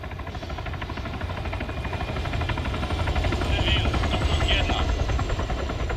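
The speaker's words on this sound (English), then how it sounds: "You hear that? Sounds like a helo." Helicopter in the Arma III video game, a loud continuous rotor chop that grows steadily nearer as it flies overhead.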